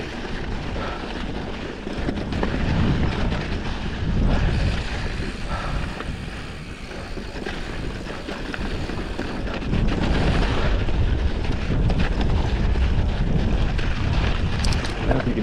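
Strong desert wind buffets the microphone in loud, continuous rumbling gusts, surging and easing over a long stretch with no voices.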